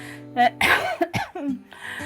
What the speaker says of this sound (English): that's the first cough, by the way.